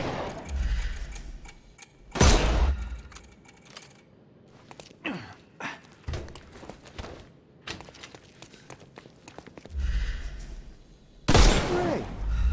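Gunshots ring out in the adventure game Sherlock Holmes Chapter One, a few sharp, loud reports spaced a couple of seconds apart, separated by quieter stretches with small clicks and movement sounds.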